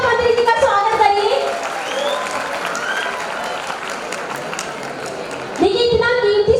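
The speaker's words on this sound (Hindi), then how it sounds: "कमल बच्चे को तालियों के साथ हमारे शिक्षा मंत्री जी का स्वागत करिए।" Children in a school annual function crowd clap steadily to welcome the education minister, a dense sustained applause that fades slightly mid-way, with a speaker's voice over the clapping at the start and again near the end.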